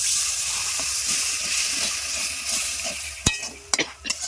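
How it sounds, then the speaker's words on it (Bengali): A loud, steady hiss of spices frying for a mixed greens curry fills the clip, then sharp crackles and bursts erupt near the end as water hits the hot pan. "মশলাটা আমার ভালো করে ভাজা হয়ে গেছে আমি অল্প পরিমাপে জল দিয়ে দিচ্ছি"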